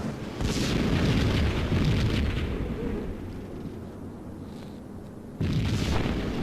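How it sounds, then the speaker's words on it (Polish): A bomb in a nearby building in the video game Max Payne explodes with a deep, rumbling boom that rolls on for several seconds, fading into a lower roar before another loud burst hits. "W pobliskim budynku wybuchła kolejna bomba."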